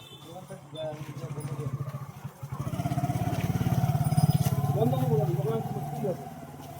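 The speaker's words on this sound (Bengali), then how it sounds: "ভটভটি করে নিয়ে যাচ্ছে শোরুমে।" A motorcycle engine putters at a low idle and then revs up into a steady, louder rumble, with people talking over it.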